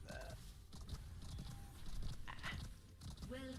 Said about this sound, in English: Is that just the sound of the horse?